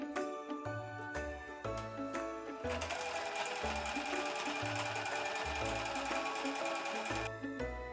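A sewing machine stitches closed the opening of a holiday stocking, running in quick close bursts of rapid needle clatter with short pauses and one longer continuous run, without talk.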